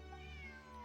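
A cat gives a single short, clear, close meow, steady and tonal, with no other sounds around it.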